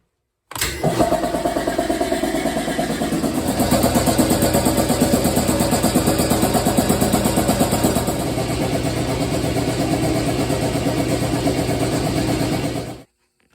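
An air compressor runs for a railcar brake cylinder test on a Budd RDC railcar. It kicks on abruptly and holds a loud, steady mechanical chug and hum for about twelve seconds, close by, then cuts off sharply.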